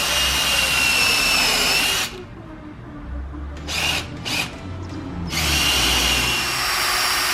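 A power drill drives toenail screws into timber uprights for a garage door in a workshop conversion, whining loudly for about two seconds, pausing with a couple of short bursts, then running steadily again.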